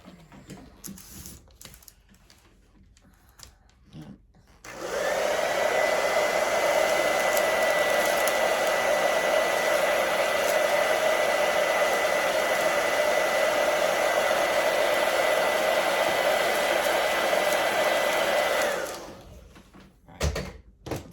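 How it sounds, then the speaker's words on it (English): A blow dryer blows steadily on a decorated Easter cake for about fourteen seconds, loud and close, between quieter handling noises before and after. "Let me hit that with the blow dryer."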